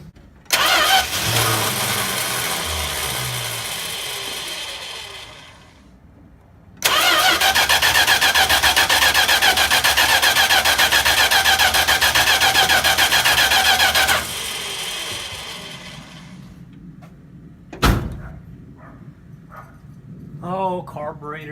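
A 1966 Plymouth Fury III with a carburetor cranks and catches, then runs at a loud, even idle close by. The engine cuts out and restarts, followed by quieter rumbling with brief voices near the end.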